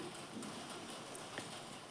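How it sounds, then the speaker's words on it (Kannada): Rain patters on a tin sheet roof, a soft steady drumming with scattered sharper taps, fairly faint and continuous. "ಸ್ವಲ್ಪ ಮಳೆ ಬರಕತೈತ್ರಿ ಇಲ್ಲೇ ಸ್ವಲ್ಪ ತಗಡಲ್ರಿ ಸೌಂಡು ಕೇಳಿಸತ್ರಿ"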